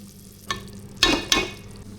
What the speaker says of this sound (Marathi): रश्श्याला उकळ आलेला आहे